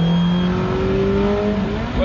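A Ferrari F430 engine at full throttle, a loud, steady, close howl with its pitch slowly climbing as the car pulls hard.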